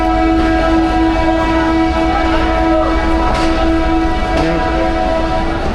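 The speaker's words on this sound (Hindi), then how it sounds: "3:45 डिपार्चर विसल हो गया।" Rehman Baba Express at the platform, with a steady train whistle tone held over loud station rumble and crowd noise, plus brief shorter whistle blips near the end.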